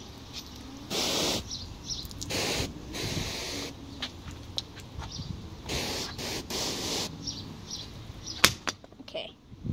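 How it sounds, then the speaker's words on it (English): Water is turned on and sprays in several loud hissing bursts separated by short pauses, with a sharp burst near the end. "Okay, I'm going to just turn on the water."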